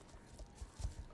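Horse hooves clip-clop in the online game Star Stable Online, a few soft, low thuds spaced irregularly over a quiet background.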